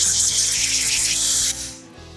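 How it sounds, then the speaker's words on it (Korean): Air gun blasting foam cleaner off an outboard motor carburetor, a loud close hiss of compressed air that holds steady, then cuts off and tails away, over a faint background hum. "거품 라인이 남아 있는 거는 에어건으로 좀 날려주도록 할게요"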